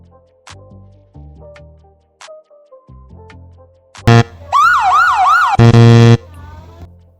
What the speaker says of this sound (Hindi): देखो 2 सायरन बज गए हमारे,